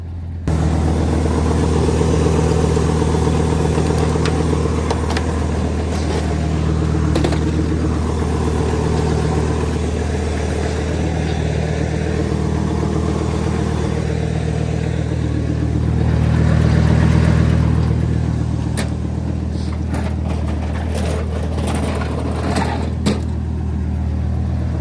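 A vehicle engine runs on a brisk, frosty morning, holding a steady low idle with a slight swell in revs midway, close and continuous with no talking.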